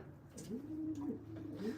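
Pigeons coo inside a loft, soft rolling low calls repeating in a slow rhythm, close and fairly quiet over a faint background hum.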